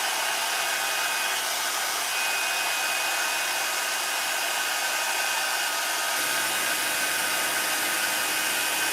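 A hair dryer on the cool setting blows steadily over a balloon donut, a loud, constant hiss of rushing air that holds without a break.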